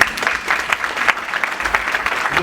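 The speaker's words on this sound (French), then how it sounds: "Veuillez les applaudir s'il vous plaît." Brief crowd applause welcoming a visiting company delegation at a corporate event, fairly close with individual claps audible in an uneven, lively rhythm.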